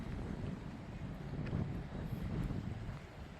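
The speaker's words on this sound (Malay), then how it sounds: "So punyalah kuat angin." Strong wind roars steadily at Tok Jembal, a constant broad rush buffeting the microphone with no letup and no voices.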